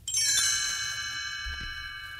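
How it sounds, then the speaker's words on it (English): Small bright bells tinkle, a shimmering ring that rises and hangs with a long sustained decay, clear and alone, serving as a page-turn cue in a children's storybook record of Cinderella. "You will know it is time to turn the page when Tinkerbell rings her little bells like this"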